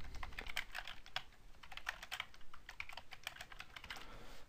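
Rapid, steady clatter of keys on a computer keyboard while a new site address is entered in a web content system, close and clear, with no talk.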